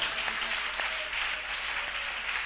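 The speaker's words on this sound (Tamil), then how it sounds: "Let us all clap." A church congregation claps at Sunday worship, a dense, steady wash of hands that fills the space evenly, with a faint voice briefly underneath.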